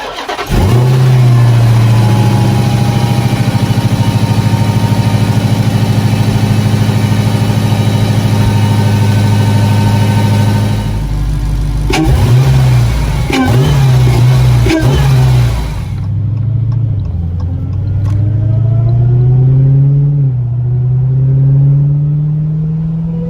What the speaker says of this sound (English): Now we're going to give it its first startup and see how it sounds.